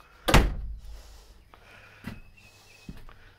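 A camper door swings shut with one loud, close thud, followed by two fainter knocks as it settles.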